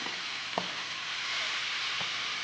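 Fish frying in hot oil makes a steady, dense sizzling hiss that carries on without a break throughout. A couple of faint utensil taps can be heard beneath it.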